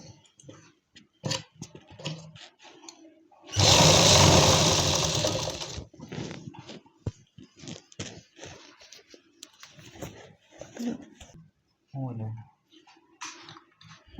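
A sewing machine runs in one loud, steady two-second burst as it stitches Afghani palazzo pant pieces together, with talking before and after the stitching.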